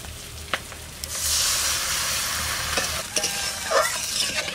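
Potatoes frying in a pan as water is poured in, followed by a burst of loud, steady sizzling with spoon stirring and a few scraping clicks near the end, in a village-style kitchen.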